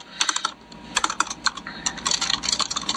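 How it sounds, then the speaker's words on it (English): Rapid, uneven clicking of fingers typing on a computer keyboard, close and fairly loud, running continuously with no voices. "The clickety-clackety of my keyboard."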